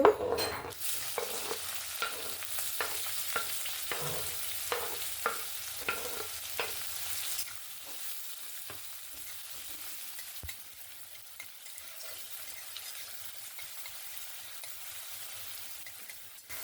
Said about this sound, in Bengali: এখানে দেখুন পেঁয়াজ টমেটো আর কাঁচা লঙ্কা সুন্দরভাবে ভেজে নিয়েছি